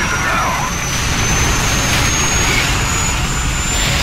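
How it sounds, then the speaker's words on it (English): A helicopter comes down in Call of Duty 4 amid a steady, loud roar of engine and rushing noise that holds unbroken for a few seconds, with a thin high whine running above it. "Oh, is that a helicopter coming down?"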